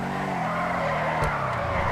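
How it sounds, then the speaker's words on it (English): Pegassi Toros SUV in GTA 5 skidding, its engine droning steadily as the tires scrub with a brief sharp squeal around the middle, loud and close with no talking. "So don't power out too early, otherwise you end up skidding out of control."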